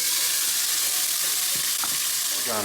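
Tomatoes sizzling and frying in hot ghee with cloves in a pan, a steady close hiss with a few stirring scrapes and spatters.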